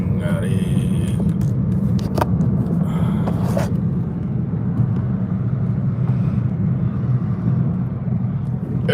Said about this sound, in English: You're dragging your muffler, boy.